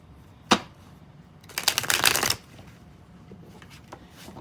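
Tarot cards handled and drawn from a deck: one sharp flick, then a brief riffling burst of cards sliding and snapping together, followed by a few faint soft taps in a quiet room.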